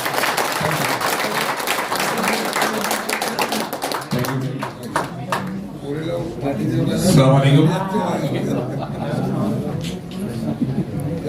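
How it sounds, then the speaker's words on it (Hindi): Loud audience applause at a business meeting, dense rapid clapping for the first few seconds, then thinning out as a voice speaks over the fading claps. "जोरदार तालियां होना चाहिए"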